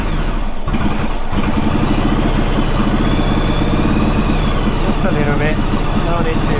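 A Yamaha Virago 1100 motorcycle engine running at a steady idle after start-up, loud and close throughout with a continuous low rumble, with a brief burst of speech heard over it.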